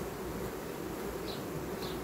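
Honey bees from a natural swarm colony buzz steadily at the hive, a dense continuous drone heard close up with no pauses or voices.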